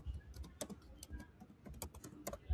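Rapid, uneven keystrokes clatter on a computer keyboard as a domain name is typed, close and fairly quiet, with no voices.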